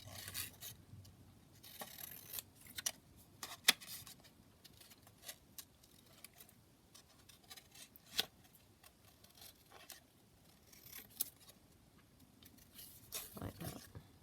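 Scissors snip through lace trim for a decorated paper journal, a scattered series of quiet, close cuts and light rasping rubs over a soft, hushed background.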